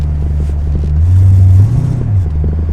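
A 1978 Corvette with lowered front end rolls along, its steady engine rumble and road noise loud and close, with a faint rattle blended into the drone for a few seconds; no one speaks.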